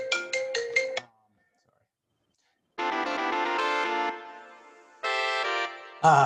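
Synthetic Sibelius MIDI playback of a notation track: a quick run of bright tones, a pause of silence, then sustained buzzy chords in two bursts.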